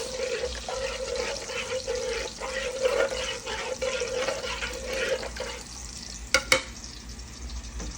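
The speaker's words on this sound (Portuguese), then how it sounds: "uma colher grande de fubá em meio litro d'água. Desfaço as pelotas, mexer bem para desfazer as pelotas" Cornmeal is stirred into half a litre of water with a large spoon, a close, continuous swishing and scraping in the pot, with a couple of sharp clinks near the end.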